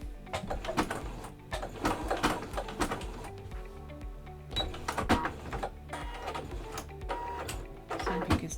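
Sewing machine stitching a homemade face mask while its bobbin thread is caught, producing rapid mechanical clattering in uneven bursts with short pauses between runs.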